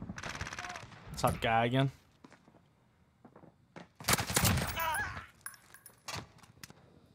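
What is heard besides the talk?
LMG machine gun fire in a video game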